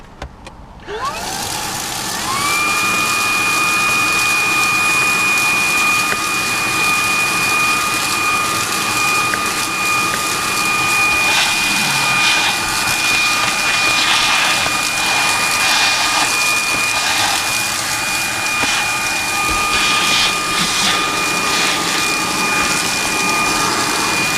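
A Fanttik V10 Apex cordless car vacuum with its brush attachment fitted whirs up and runs steadily inside a car, a loud constant motor whine with a high tone, rattling faintly now and then over the full stretch.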